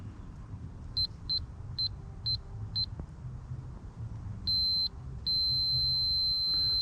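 Multimeter continuity beeps while the glow plug relay terminals on a 7.3 Power Stroke are jumped: several short, evenly spaced high tones, then two longer sustained beeps, fairly faint over a low background rumble.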